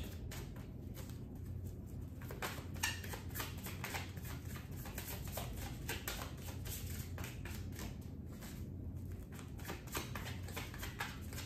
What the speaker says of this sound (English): I've never shuffled this much.